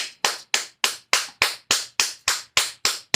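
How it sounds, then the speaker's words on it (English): Eleven sharp, evenly spaced claps ring out close and clear, one pair of hands clapping at a steady rhythm of about three per second with nothing else heard. "I'm going to give a round of applause"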